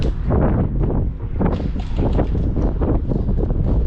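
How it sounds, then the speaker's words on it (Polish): Strong, gusty wind buffets the microphone at an old, abandoned, ruined site, a continuous loud roar with rising and falling surges and no voices. "pewnie będzie słychać, bo jest taki wiatr"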